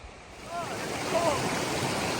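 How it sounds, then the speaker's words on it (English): River water flows at a crossing of the east branch of the Ahuriri River, a broad steady rushing wash close by, with faint bird calls above it and no talk. "Nice little crossing of the east branch of the Ahuriri River."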